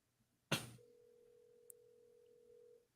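A telephone call rings through: a sharp click, then a single steady ring tone that holds for about two seconds, heard alone and fairly quiet.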